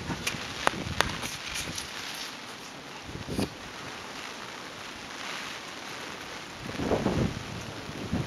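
Strong typhoon wind buffets the microphone in a steady broadband roar, with gusts swelling louder near the end and brief thumps scattered throughout.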